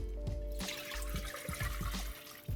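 Orange chicken sauce mixture pours into a medium saucepan with a steady, close splashing trickle, broken by a few soft rhythmic thumps, and a faint musical tone runs underneath.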